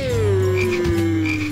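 A frog croaks in the video game My Talking Hank Islands: one loud, steady, droning croak held throughout, with a bright chirping tone flickering above it.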